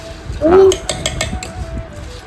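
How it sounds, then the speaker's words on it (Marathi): Bhel is tossed with tamarind chutney in a bowl, a spoon clinking and scraping against the metal with one loud ringing scrape followed by lighter rhythmic taps, close and fairly loud. "चिंचेचा पाक आणि त्याला असं थोडंसं हलवून घ्यायचं मस्त"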